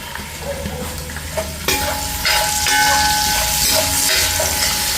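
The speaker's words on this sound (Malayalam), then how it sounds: "നമുക്ക് ഉള്ളി ഇട്ട് കൊടുക്കാം" Onion sizzling and being stirred in a hot pan while cooking a pork dish, a steady close frying hiss with scraping stirs that grows louder as the onion goes in.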